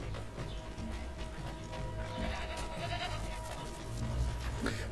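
Sheep bleat amid a dense, busy ambient soundscape in the video game Assassin's Creed III, the calls steady but partly blended into the continuous game background noise.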